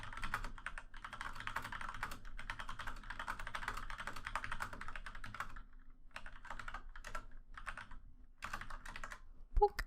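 Steady rapid typing on a computer keyboard, close and fairly quiet, with a short pause midway before the keystrokes resume in bursts.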